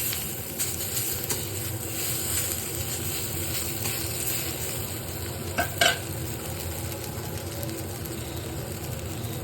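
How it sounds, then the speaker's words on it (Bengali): Eggplant pieces fry in a pan in a Bengali home kitchen, making a steady, soft sizzle throughout, with a brief clink of a utensil near the middle and no talking. "বেগুনগুলো ভাজা হয়ে গেছে মোটামুটি"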